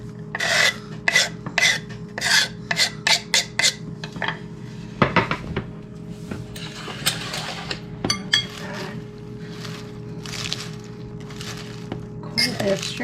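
A spoon scrapes through chicken wonton taco filling with cilantro in a pan, making loud, rhythmic rasping strokes with occasional metallic clinks.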